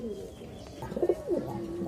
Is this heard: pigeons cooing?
yes